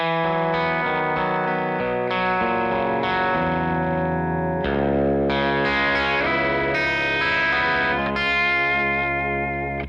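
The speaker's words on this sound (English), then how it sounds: "It's nice and chimey." Electric guitar through a Jackson Audio compressor pedal rings out chimey, sustained chords and melodic notes with a bright, even tone, playing continuously for about ten seconds.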